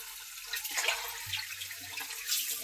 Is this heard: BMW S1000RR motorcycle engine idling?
no